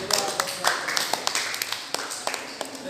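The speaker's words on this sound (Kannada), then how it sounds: "ಅವನಿಗೆ ಚಪ್ಪಾಳೆಯನ್ನು ಕಟ್ಟೋದು" Tenth-grade students in a classroom clap together after a classmate gives a correct answer, a short burst of quick, uneven hand claps that tapers off within a few seconds.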